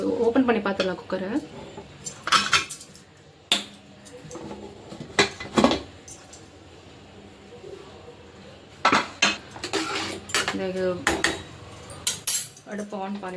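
Metal pots and utensils clatter in sharp bursts as a pressure cooker of sakkarai pongal is opened in a home kitchen, with a voice talking between the clanks.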